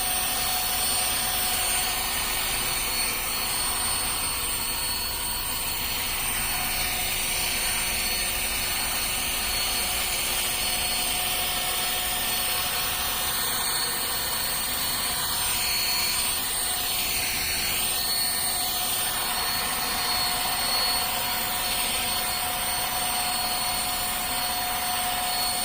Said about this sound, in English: Turn it on turbo now.